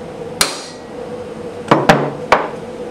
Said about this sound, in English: we are going to gently tap the firing pin with a hammer.